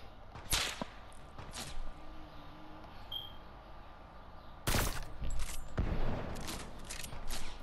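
Sharp semi-automatic gunshots in the video game Fortnite, a few isolated cracks early on followed by a louder close burst near the end over steady game ambience.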